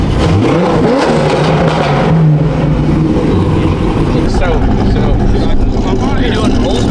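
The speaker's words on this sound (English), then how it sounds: "I think they want you to rev it." A Chevrolet C6 Corvette Z06 with a naturally aspirated 6.2-litre engine revs loudly at close range, rising and falling through several sweeps over a rough idle, with people talking over it.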